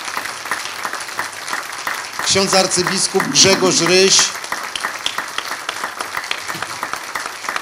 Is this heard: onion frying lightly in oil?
no